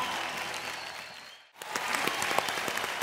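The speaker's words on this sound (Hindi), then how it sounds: "अब्बास भाई, मुस्तान भाई के लिए एक बार जोरदार तालियां" An audience at a televised singing competition claps loudly for Abbas and Mustan, a dense steady burst of applause that dips for a moment and then swells again, close and full.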